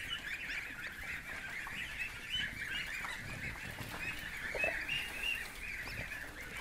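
Several geese honk continuously at close range, their nasal calls overlapping in a busy, steady chorus with some rustling underneath.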